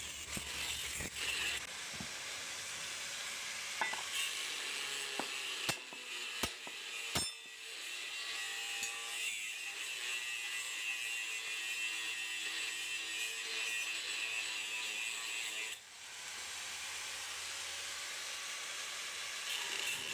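Angle grinder slicing through steel from an old chainsaw bar, a continuous loud bright whine that runs steadily for the whole stretch, broken by a few sharp clicks and brief dips as the cut shifts.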